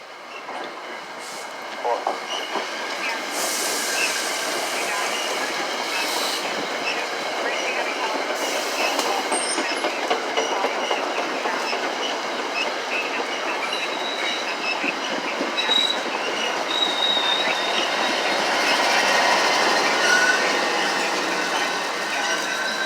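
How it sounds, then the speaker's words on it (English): An inbound train pulls into the Four Corners Geneva Ave station, a sustained rumble of rolling cars with ratcheting clanks and squealing wheels, loud and close, growing slightly toward the end. "I hear a train coming on the inbound side now."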